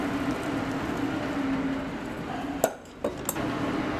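Canned black-eyed peas tip into a cooking pot for Hoppin' John, a steady wet rumble broken by a sudden metallic clank and a few light clinks near the end.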